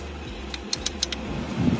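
The air conditioner in a Toyota Hilux Vigo with a broken switch cycles on and off, making a few soft, close clicks over a low steady cabin hum.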